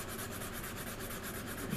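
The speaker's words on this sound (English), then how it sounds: "Give this nacelle another good sanding right here" Rhythmic back-and-forth sanding on a plastic engine nacelle of a C-124 Globemaster model kit, steady close scraping strokes, quiet and continuous.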